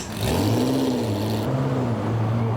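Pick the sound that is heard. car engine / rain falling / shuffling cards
car engine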